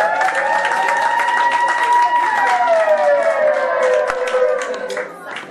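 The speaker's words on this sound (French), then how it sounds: "Mesdames et messieurs, les applaudissements très très forts." Applause from the audience at a celebration in Rosny-sous-Bois, France: clapping runs underneath a loud sustained wavering tone, like a horn or a drawn-out voice, that slides lower midway before the sound fades at the end.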